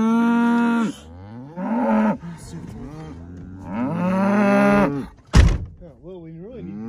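Cattle on a farm moo loudly and close, several long drawn-out calls one after another, with a sharp thunk partway through and people talking nearby.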